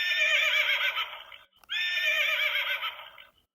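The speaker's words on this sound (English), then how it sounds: "it's a horse" A horse neighs twice in a row, each call a loud, high, wavering whinny lasting over a second, separated by a short pause and heard alone without talk.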